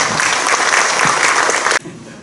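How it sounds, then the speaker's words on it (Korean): Loud, dense applause from a seated church assembly welcomes a pastor standing as a candidate at a denominational general assembly election debate, sustained and then cutting off abruptly. "뜨거운 박수로 모시겠습니다."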